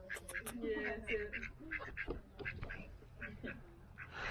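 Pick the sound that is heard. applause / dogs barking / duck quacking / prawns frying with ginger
duck quacking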